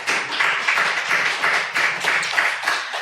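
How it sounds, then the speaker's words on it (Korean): Church congregation clapping together in a sanctuary, a steady, dense round of applause from many hands that carries on evenly and fairly loud, with no talking over it. "우리 집사님이 열매 맺게 될 줄을 믿고 우리 미리 박수 쳐드립시다."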